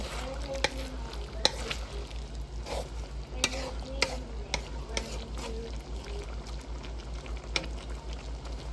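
Pork binagis being stirred as it fries in a pan: steady sizzling broken by sharp scraping clicks of the utensil against the pan, close and fairly quiet.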